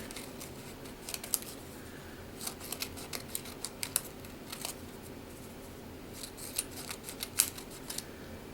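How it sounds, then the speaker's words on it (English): Scissors snip through a transparency sheet to cut it into strips, giving a series of crisp, close, irregular clicks and crunches with pauses between cuts and no talking. "So let me just cut some strips here."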